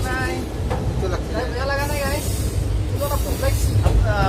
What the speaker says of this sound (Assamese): ট্ৰেইন চলি আছে ইয়াত চাওক